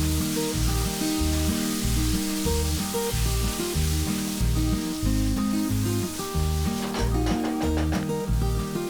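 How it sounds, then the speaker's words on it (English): Minced mutton keema fries with biryani masala and garam masala, giving a continuous crackling sizzle that sits under a loud rhythmic music track for the whole stretch. "add 1 tablespoon biryani masala, 1 tablespoon garam masala and then fry it for about 2 to 3 minutes"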